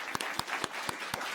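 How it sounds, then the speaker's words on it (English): Applause at a statewide spelling bee for the champion speller, a crowd clapping steadily with a few sharp louder claps standing out in a regular rhythm, brief and fairly near, with no voices. "Let's have another round of applause for our champion speller"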